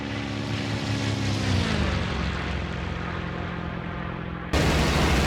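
A propeller aircraft engine drones loudly and steadily just after takeoff, with the pitch gliding down as the revs are reduced to 2400 rpm, then a sudden change in tone near the end, with no voice.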